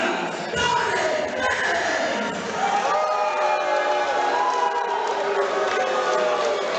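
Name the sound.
crowd booing at a fighter introduction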